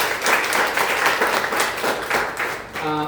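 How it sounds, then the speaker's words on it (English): A crowd at a business opportunity presentation breaks into loud, close applause, rhythmic clapping that pulses for about three seconds before a voice starts speaking at the end. "Please give Yvonne a round of applause"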